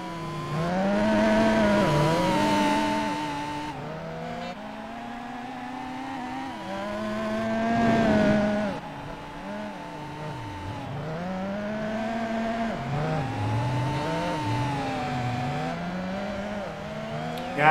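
Rally car in the Gran Turismo 4 video game sliding through corners, engine revving and falling with shifting pitch while tires scrub, loud and continuous, no talking.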